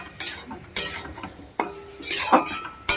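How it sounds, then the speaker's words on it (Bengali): Chopped tomatoes and vegetables being fried and stirred in a pan, with several sharp clinks of a utensil against the metal over a soft sizzle, close and moderately loud. "দিয়ে সবজির সঙ্গে টমেটোটাকে ভালো করে ভেজে হবে"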